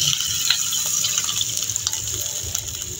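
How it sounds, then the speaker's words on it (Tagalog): Water gushes steadily into a pan of sautéing garlic and chicken, a continuous close splashing pour that lasts throughout with no pause. "At ito ay lalagyan natin ng tubig."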